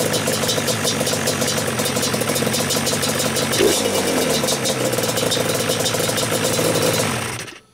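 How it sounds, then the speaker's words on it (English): A tuned Yamaha Banshee ATV engine runs at a steady, loud idle close by, an even buzzing two-stroke drone with a slight rev near the middle, cutting off abruptly at the end. "I'm going to show you guys how this bike runs."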